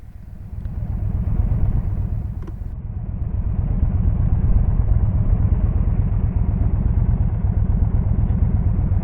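A Yamaha cruiser motorcycle rumbles steadily while riding, a deep loud low-pitched engine drone with a consistent throb that swells slightly midway, no voices.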